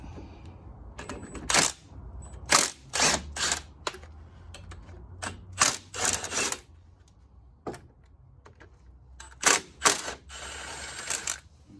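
A ratchet wrench works loose the bolts holding the front wheel hub on a 2005 Chevrolet Equinox 3.4, giving several quick, close clicking bursts separated by short pauses.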